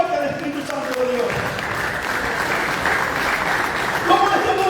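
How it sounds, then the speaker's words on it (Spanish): A church congregation claps loudly and steadily throughout, a dense wash of applause filling the room, with voices audible beneath it. "Demos un aplauso fuerte al Espíritu Santo de Dios."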